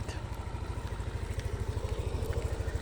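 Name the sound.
Yamaha NMAX version 3 scooter exhaust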